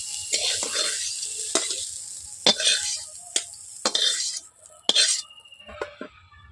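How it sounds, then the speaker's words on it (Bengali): Cauliflower-potato momo filling is scooped out of a wok, with repeated scraping spoon strokes and metallic clinks over a light background sizzle. "আমি কড়াই থেকে তুলে নিচ্ছি।"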